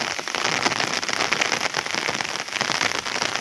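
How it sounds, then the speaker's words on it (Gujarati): Steady rain pours down, a dense continuous hiss of drops hitting surfaces, loud and close with no pauses. "હવે વરસાદે ચાલુ છે"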